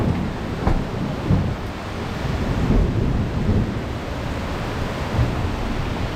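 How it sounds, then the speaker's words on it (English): A big thunderstorm moves in over an outdoor home building site, with low, rolling thunder rumbling continuously under a broad wash of wind or rain noise and no voices. "Great big storm moving in."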